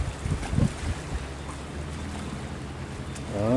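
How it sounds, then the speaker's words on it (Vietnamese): Fishing boats of about 15 meters race at high speed across the sea toward Binh Ty port, a steady roar of engine and rushing water with wind buffeting the microphone, swelling louder at the end. "Đó, chạy ghe tốc độ rất là ác luôn các bạn không."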